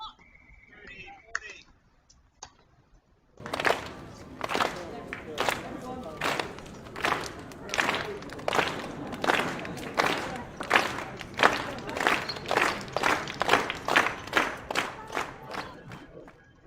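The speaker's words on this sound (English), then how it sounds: "Give me that clap" Spectators at a college tennis match clap in a steady, loud unison rhythm of about sixteen sharp, evenly spaced claps after a short quiet opening with faint tones, the beat building slightly as it goes.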